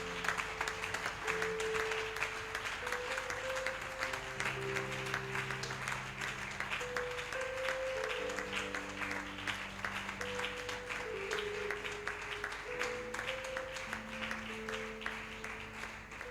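A church congregation claps steadily for a long stretch as an offering of acclamation, the dense rhythmic applause mixed with sustained musical tones in the hall.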